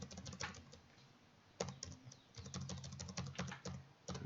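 Typing on a computer keyboard while working in Excel: quick bursts of close, crisp key clicks with a short pause, then another run of keystrokes.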